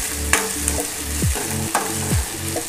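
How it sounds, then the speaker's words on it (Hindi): Ginger, garlic and green chili paste stirred into hot oil for gobi manchurian, with a steady sizzle and repeated scraping strokes of a spoon across the pan, close and alone with no talking. "इसमें मैं ऐड करूँगी हमारा ये जिंजर गार्लिक और ग्रीन चिली वाला पेस्ट, और इसे अच्छे से मिक्स कर लूँगी"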